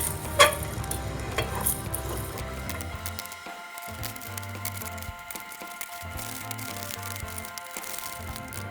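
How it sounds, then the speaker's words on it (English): Sugar melts and sizzles in a pan for caramelized turon, a soft crackling hiss broken by stirring scrapes and clinks, close by and fairly quiet, with no talking. "The sugar is starting to melt."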